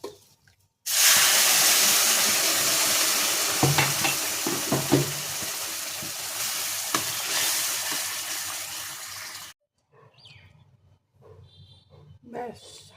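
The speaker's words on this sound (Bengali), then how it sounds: "জল দিয়ে দেবো, গরম জল।" Hot water hits frying semolina halua with a sudden loud, roaring hiss that eases off over about nine seconds, with stirring knocks mixed in. Then it stops sharply, leaving a quieter stretch with some voices.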